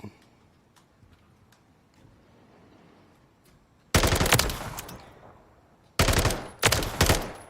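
FSS Hurricane SMG firing in Modern Warfare 3 on a firing range: after a quiet stretch, a loud sustained automatic burst, then two more short bursts close together near the end.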